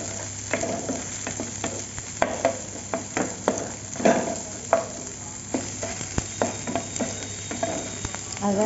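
Wheat-flour momos are stirred with soy sauce in a hot pan: steady scraping strokes of a spoon against the pan in an uneven rhythm over a soft, continuous sizzle, close and moderately loud, with no talking.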